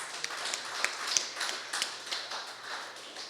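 An audience applauding for Brother Mohan at a lecture, a dense and fairly faint patter of many hands clapping steadily and heard from a distance.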